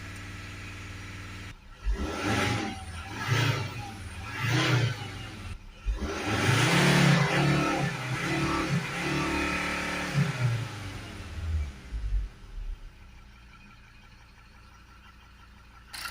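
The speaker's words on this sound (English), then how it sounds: "I'm just going to hold some revs on it for" A Volvo V70 diesel engine revs up sharply a few times, holds at higher revs for several seconds, then drops back and quiets toward idle.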